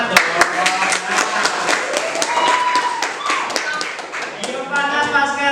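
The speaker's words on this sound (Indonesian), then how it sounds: "Tepuk tangannya semangat dong." Classroom clapping from a group of students, a dense patter of many hands with crisp individual taps, steady and close, while voices carry over and around it throughout.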